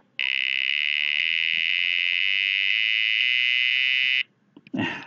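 A steady, shrill electronic buzzer tone from an Arduino holds for about four seconds, then cuts off, followed by a brief rustle of handling noise.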